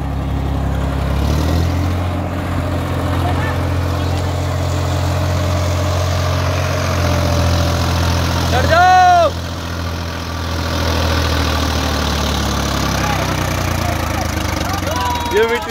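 A tractor engine runs steadily with a rotavator attached, working soil in first gear, a loud low continuous drone throughout with a brief mechanical squeal near the middle; voices talk over it.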